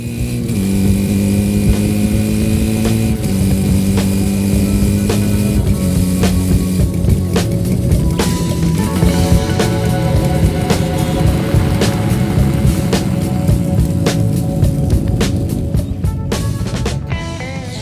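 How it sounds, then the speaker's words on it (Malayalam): A Yamaha motorcycle, a two-stroke sport bike from the 1980s, runs with a loud, close exhaust note, holding steady revs with shifting pitch throughout and no talk. "ഇപ്പോഴും ഈ വാഹനത്തിൻ്റെ ശബ്ദത്തെ തോൽപ്പിക്കാൻ പറ്റുന്ന ഒരു ശബ്ദവും ഒരു ബൈക്കിൻ്റെയും എക്സോസ്റ്റിൽ നിന്നും പുറത്തു വരുന്നില്ല"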